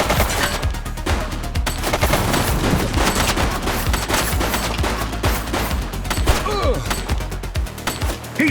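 Rapid automatic gunfire in The Precinct, a police game on PS5, loud dense bursts of shots nearly nonstop with brief shouting voices underneath.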